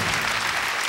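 A studio audience at a variety show claps in a brief, dense burst of applause, steady and close for under a second.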